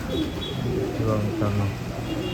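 A pigeon coos at a pigeon festival in Nashik, soft repeated low cooing notes close by under background chatter and crowd noise.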